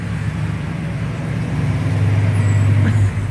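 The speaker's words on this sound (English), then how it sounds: "Let me put you on hold while that loud truck backs in." A loud truck backing in nearby, a steady low engine rumble and roar that grows heavier toward the end, heard alone without talk.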